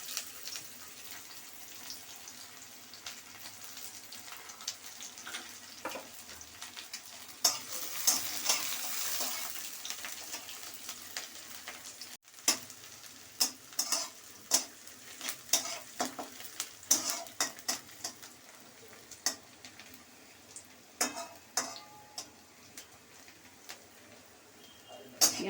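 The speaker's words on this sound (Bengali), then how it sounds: "পেঁয়াজটা ভালো করে ভেজে নেব" Onions sizzle steadily in hot oil in a pan for a soybean curry, with sharp spatula scrapes and clatters of stirring breaking through the frying hiss.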